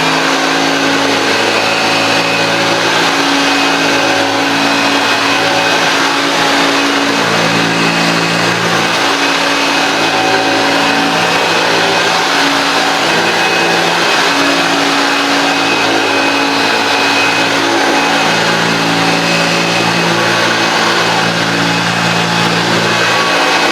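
A vintage 1970s Hoover U2002 Starlight vacuum cleaner runs continuously, its motor a loud, steady drone with a whining hum that holds for over twenty seconds without a break.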